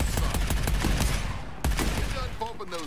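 Rapid hip-fired shots in the Arcadegeddon arcade shooter, a fast rhythmic burst of loud close gunfire that breaks off briefly and then returns with a few more shots under game sound effects.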